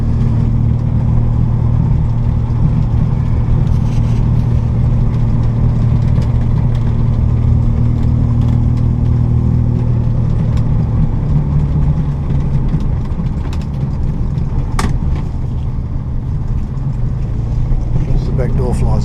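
An Austin A90 Westminster runs on a drive, its engine giving a steady low rumble close up, shifting pitch slightly midway, while someone talks over it and a brief sharp knock sounds near the end.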